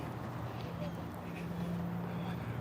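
Geese beside a walking path give a few scattered honks and quacking calls over steady outdoor background noise, the calls fairly faint and irregular.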